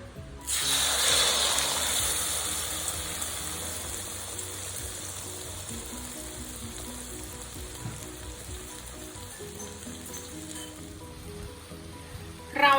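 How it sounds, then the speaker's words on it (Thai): Hot oil erupts into a loud sizzle as beaten egg with acacia leaves drops into the pan, then settles into a steady, softer frying hiss. "จะทอดจนกว่าไข่จะเป็น สีเหลืองทองเกือบเข้มนะคะ"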